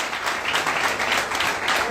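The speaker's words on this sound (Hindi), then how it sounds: "Let us clap for the Lord." A church congregation claps steadily throughout, dense applause from many hands with no pauses.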